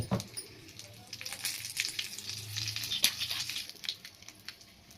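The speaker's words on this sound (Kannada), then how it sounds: "ಒಣಮೆಣಸಿನ್ಕಾಯಿ ಕರ್ಬೇವಿನ ಸೊಪ್ಪು ಚಿಟಿಕೆ ಇಂಗು ಇಷ್ಟನ್ನು ಹಾಕಿ ಒಗ್ಗರಣೆ ಕೊಡೋಣ ಚಟ್ನಿಗೆ" Dry red chillies, curry leaves and a pinch of asafoetida sizzle in hot oil for a chutney tempering, a quiet steady crackle with scattered pops and stirring sounds, no speech.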